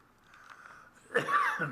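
A single sharp sneeze bursts out near the end after a quiet stretch during a county board meeting, close and fairly loud, with no talking.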